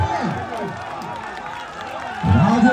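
A crowd greets a team arriving at a tug-of-war contest with scattered clapping and cheering, a busy roar of many people that swells louder toward the end.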